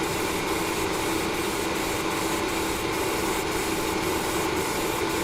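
Vallejo white surface primer hisses steadily from an aerosol can during a third, wetter coat. The spray holds continuous and fairly loud, broken by brief regular dips as the nozzle pulses.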